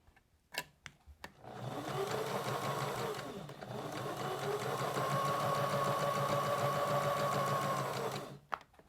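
Sewing machine chain-piecing fabric runs in one long, steady, close mechanical hum for several seconds, preceded by a few clicks and taps as the pieces are positioned.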